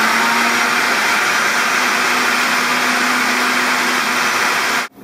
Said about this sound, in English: start blending it